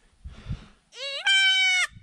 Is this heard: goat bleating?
yes